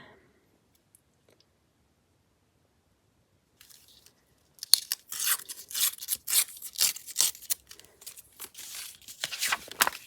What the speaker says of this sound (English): And then we're going to tear this the same size.